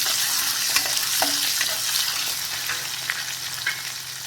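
Green chilies and chana dal fry in a hot pan with a steady, close sizzle, broken by a few light scraping stirs; no one speaks.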